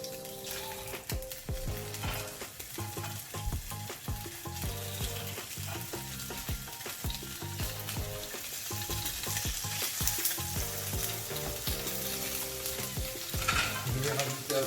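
Sole fillets and scallops fry in a knob of butter with a drizzle of olive oil, a steady loud sizzle with stirring and pan clatter running throughout, close and alone.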